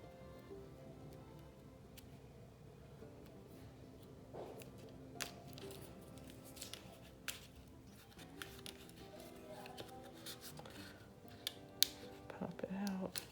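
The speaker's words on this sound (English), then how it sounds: "I'm just cutting through these. Okay, take that off and trim down the edges." Scissors snip and trim the edges of a small craft crate, with scattered crisp cuts and clicks growing busier toward the end, quiet and close, alongside faint talk.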